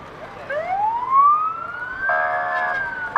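An O'Neill Rural Fire truck siren wails past during a St Patrick's Day parade on Main Street, a loud rising sweep that climbs and holds, followed by a brief burst of horn-like blaring.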